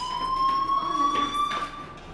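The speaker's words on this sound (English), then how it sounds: "do you hear that fire alarm? That means you should be outside." In the Life is Strange video game, a fire alarm rings with a steady, piercing electronic tone, held continuously at moderate loudness with faint background sounds.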